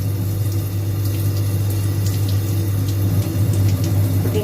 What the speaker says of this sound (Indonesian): Kemudian kita akan bilas slide menyeluruh dengan air